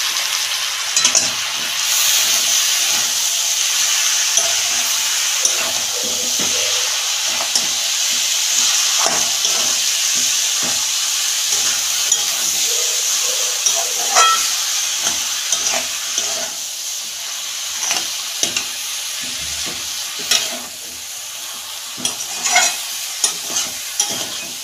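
Cabbage frying with fish head in a pan, a steady loud sizzle and hiss with frequent scraping stirs of a spatula throughout, no talking.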